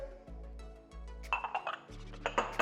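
A saucepan clinks and rings in a kitchen as orange juice and sugar are added, with a few light metallic taps and pings over a low background hum, sounding near and fairly quiet.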